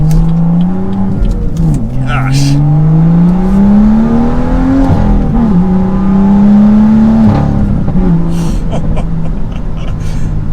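BMW M2 with a six-speed manual, driven in Sport Plus mode on a hot day, its engine revving up through the gears with steady rising pitch, loud and close from inside the cabin, a brief exclamation from the driver partway through.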